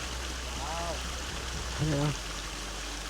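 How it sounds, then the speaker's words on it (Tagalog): Water flows steadily along an outdoor canal, a continuous close trickling rush, while someone speaks briefly over it. "Ang tunog ng kanal, tubig."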